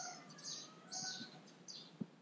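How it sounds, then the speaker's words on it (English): A weak baby chick, rescued after being frozen, gives faint high chirps in a few short bursts, very quiet against a low background hiss, with no talk. "He's doing little chirps at the moment, so hopefully he's going to get stronger."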